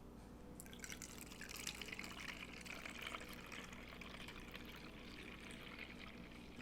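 Thin Castile soap shampoo pours through a funnel into a bottle, a faint continuous trickle and splash of liquid, quiet and close, with no talking.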